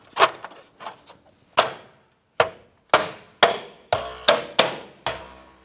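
Snapping sharp knocks from a wheel center cap being pressed onto a 2008-2013 Nissan Rogue wheel, about a dozen close, loud hits in an irregular sequence, quickening toward the end, with no talking.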